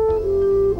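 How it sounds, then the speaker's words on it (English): A French horn holds one steady sustained note, mellow and fairly loud, for under a second with no other sounds. "Mr. Boyd likes the music he makes with the French horn"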